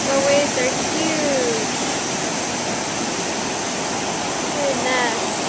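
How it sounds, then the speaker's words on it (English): Large ocean waves crash on a California beach at night, making a steady, loud roaring wash of surf throughout, with faint background voices. "The waves are huge."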